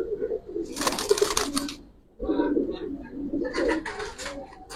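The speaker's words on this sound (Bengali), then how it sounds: "যে আসলে সুন্দর একটা কবুতর।" A Giribaz pigeon coos up close in two bursts of low, throaty, rolling calls separated by a brief pause, with some faint rustling around it.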